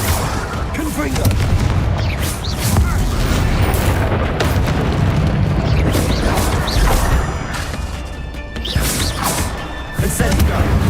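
The Confringo blasting spell in Hogwarts Legacy sets off repeated loud booms and crashing impacts. Bursts of explosive energy overlap with clattering debris and clashing game effects, with combat sounds piling up densely throughout.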